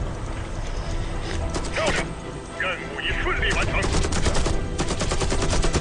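Rapid bursts of gunfire from a headshot in the video game Warface 2, sharp repeated shots clustered toward the end over a busy game soundscape, with a voice talking in the middle.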